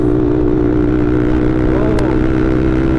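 Sport motorcycles, a Yamaha R15 V3 and a Bajaj RS 200 fitted with aftermarket exhausts, idle and rev in a group, giving a loud, continuous, close engine drone with rough low rumble throughout.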